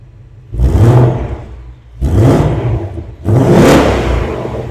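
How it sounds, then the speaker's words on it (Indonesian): A Ford Mustang in normal exhaust mode is revved three times in quick succession. Each rev is a loud, close blip that rises and falls back, with short idle pauses between them. "Ntar kita dengerin gimana mobil ini di mode normal."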